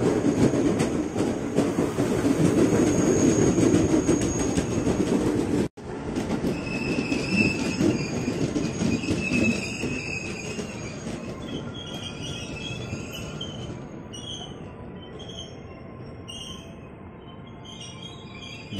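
A JR 205 series KRL commuter train of ten cars bound for Jakarta Kota passes close by on the Bogor line, with loud sustained rumbling rail noise and high wheel squeals that ease into a steadier rolling clatter as the train goes by.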